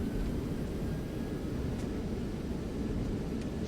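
Roaring broadband rush of Airbus A319 thrust reversers deployed on landing rollout in the X-Plane 11 flight simulator, a steady loud wash of engine noise with low rumble, holding constant without pauses.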